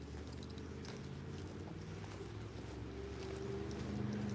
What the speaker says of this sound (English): You can hear off in the distance engines.